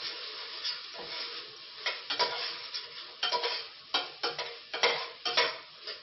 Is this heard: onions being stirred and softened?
yes